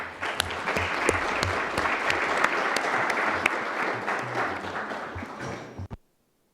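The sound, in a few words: audience applause for panelists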